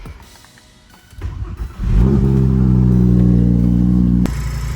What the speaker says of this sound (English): it was time to start the car